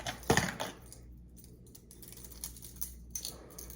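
An Ott's Garage flat-sided crankbait fishing lure is shaken, producing a soft, limited rattle of light clicks that starts with a louder burst and then trails off into sparse ticking.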